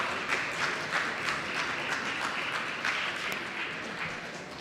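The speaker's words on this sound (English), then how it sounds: "let's have another great round of applause for Graham Austin King" An audience applauds after a fantasy book reading at a convention, a steady round of many hands clapping together at a moderate level that carries evenly throughout.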